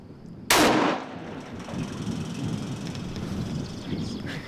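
A single loud rifle shot rings out during a bear hunt in the late season, a sharp near blast followed by a long rolling echo that fades across open terrain.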